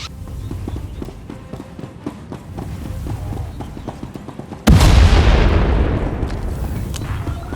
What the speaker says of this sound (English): Prepare to fire weapon on my command.